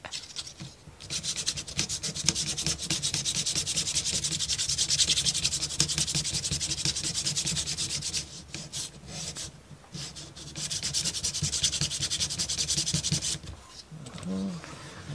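Wood being sanded on a ROKR Marble Parkour run part: loud, close, continuous abrasive rubbing strokes with two brief pauses midway, stopping near the end, where a short voice is heard.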